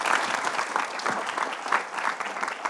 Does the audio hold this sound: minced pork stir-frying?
no